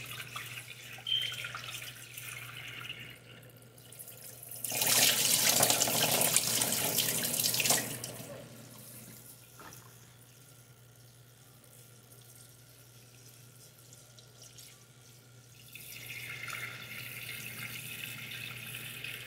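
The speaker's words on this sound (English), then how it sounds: "Always wash the rice too." Rice rinsed under a running kitchen tap before cooking: a loud burst of water splashing into the sink for a few seconds, then a quieter flow, with the tap running again near the end.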